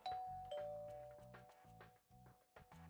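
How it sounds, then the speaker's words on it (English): Doorbell ringing in a visual novel video game, a clear electronic ding-dong chime pressed a few times in a row, each ring followed by a soft tonal tail, with no voices. "Praying that this would give me a lead, I rang Sanjo's doorbell."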